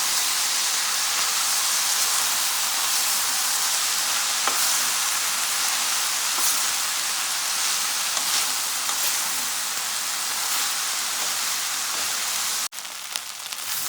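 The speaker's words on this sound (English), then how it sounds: "So I let it fry up for a few minutes" Flat beans, eddoes and Guyanese sweet water shrimp fry in a pot, a steady bright sizzle with scattered pops and crackles, close and even, ending with a small clunk; no voices.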